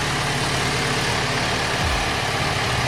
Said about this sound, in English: That's how the stock exhaust is. It's not loud, but it sounds like an electric bike